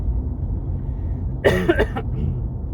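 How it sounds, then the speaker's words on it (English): A short burst of dry coughing, two or three quick hacks close by over a steady low background hum. "still got a bit of a dry cough"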